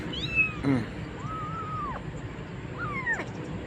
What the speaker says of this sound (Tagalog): Papakain tayo ng kuting ng bagong pulot natin kahapon.